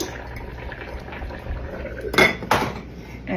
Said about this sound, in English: I'm going to cover it with the lid,